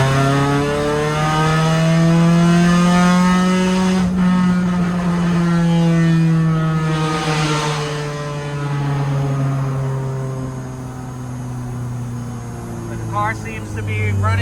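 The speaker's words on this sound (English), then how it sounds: "I'll give you a little sound clip of the exhaust." Car exhaust fitted with a 20-inch MagnaFlow muffler while driving at about 35, a steady low droning hum with a slight swell in engine tone, heard from inside the cabin, with a voice talking briefly.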